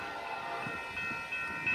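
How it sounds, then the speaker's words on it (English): Crossover freight train with NS locomotives passing at a rail junction in Montour, Iowa, a loud sustained horn blast with steady rumbling rail noise underneath, close and continuous. "Here comes that crossover train."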